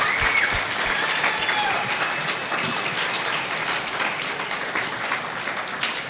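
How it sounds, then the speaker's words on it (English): An audience applauds volunteers at the opening ceremony of a high school VEX V5 robotics competition, a sustained wash of many hands clapping at once, fairly loud and even throughout, with a voice speaking over it. "let's do a round of applause for them."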